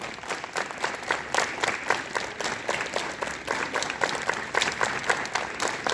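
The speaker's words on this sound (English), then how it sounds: "Clap together." Students at a school morning assembly clap their hands together in unison, a dense, steady run of loud applause from a group that carries on for the whole stretch with no pause.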